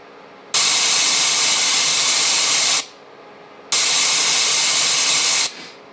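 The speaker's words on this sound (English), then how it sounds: "here's blue" Blue noise test signal, a bright hiss tilted toward the treble, plays in two loud steady bursts of a little over two seconds each, with near silence between them.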